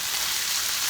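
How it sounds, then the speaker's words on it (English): Fruit softened with a little water sizzles in a pan as stuffing for a Puerto Rican style roast turkey, a brief, even, close hiss with no talk. "as you can see how softened and how it began to sizzle"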